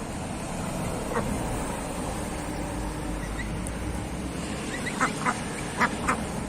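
Ducks arriving along with broiler chicks give a few short quacks near the end over a constant low background rumble, while earlier the scene is mostly noise.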